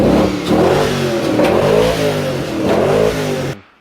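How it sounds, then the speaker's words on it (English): A loud, close TVR V8 engine revs repeatedly, rising and falling in pitch with a throaty rumble, then cuts off abruptly at the end. "Well, I do happen to have a TVR V8 engine. She's alive!"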